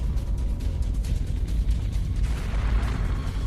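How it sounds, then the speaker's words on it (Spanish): A dense, rumbling roar of heavy blasts from the Pearl Harbor attack, a bomb striking a warship's ammunition room and setting off more explosions, rolls continuously, deep and loud, bursts overlapping into a sustained booming wall of sound. "la bomba impacta en la sala de munición y desencadena 2 explosiones más"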